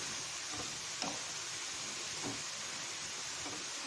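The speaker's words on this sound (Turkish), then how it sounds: "Güzel kızarıyor." Zucchini slices frying in oil in a pan for a garlic-yogurt dish give off a steady, soft sizzle. A few faint stirring clicks rise over the hiss.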